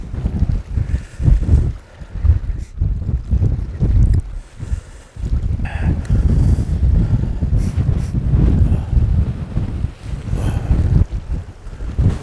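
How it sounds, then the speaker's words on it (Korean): A strong winter wind sweeps across a seaside fishing spot in hard, roaring gusts that buffet the microphone continuously, with brief lulls between the heavier blasts. "조금 일찍 바람이 몰아치기 시작합니다."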